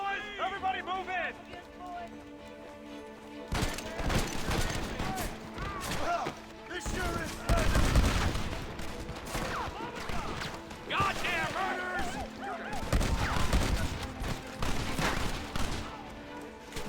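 Shotgun blasts in a Western-style video game, a series of sharp cracks and bursts amid battle noise, music and shouting, loud in stretches, with talk running throughout.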